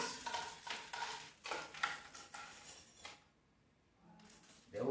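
Small objects rattle and clatter inside a homemade rain stick as it is filled, a series of close, light scraping and ticking bursts, then a short quiet gap before the rattling resumes.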